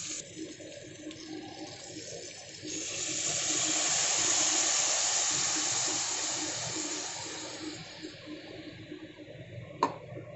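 Water from a rinsed mixer jar poured into a pan of fish curry with ground spice paste: a rising, steady rush of pouring liquid over a few seconds that fades off, followed by quiet and a single clink.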